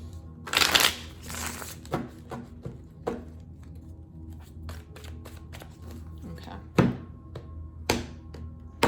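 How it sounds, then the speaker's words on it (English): Tarot cards being shuffled in a burst of crisp riffling near the start, then scattered soft taps and thunks as the deck is squared and handled, close and fairly quiet. "Let's do one more shuffle."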